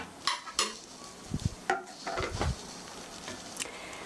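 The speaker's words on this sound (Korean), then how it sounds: "이렇게 농도를 봐가면서 고루 저어주시고요" A spoon stirs fusilli in a pan of cream cheese sauce with grated Parmesan, giving a few soft scrapes and clinks of utensil against the pan alongside a faint sizzle, close and fairly quiet.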